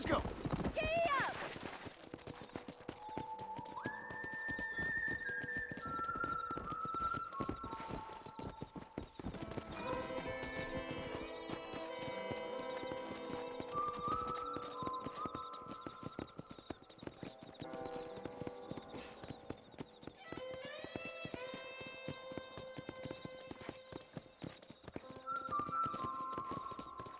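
Horse hooves clip-clop steadily throughout in the Red Dead Redemption video game, with occasional whinnies and a backdrop of layered tonal music.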